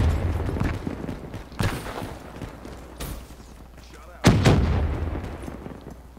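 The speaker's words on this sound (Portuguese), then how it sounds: "isso foi sniper" Sharp sniper rifle shots crack out amid continuous gunfire in Black Ops 3, two loud reports standing out over the battle din, with a player talking through it.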